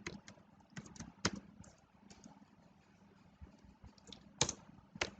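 Typing code on a computer keyboard: quiet, close keystrokes in irregular bursts with pauses between them, soft clicks and a few louder taps over a faint low background hum.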